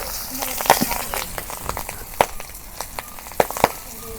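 Pangas fish pieces, head and belly cuts, dropped into hot oil for Bangladeshi-style cooking, giving a low steady sizzle with scattered crackling pops near the mic while someone talks over it.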